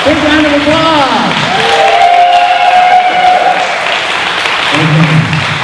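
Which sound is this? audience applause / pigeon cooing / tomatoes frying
audience applause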